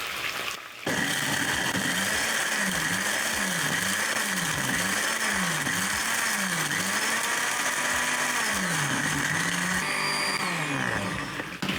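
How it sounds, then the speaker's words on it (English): A blender grinds homemade pilau spices with a loud, continuous motor whir and a steady rhythmic pulsing as the blades churn the dry mix, with no talking. "Once done, I'm going to blend."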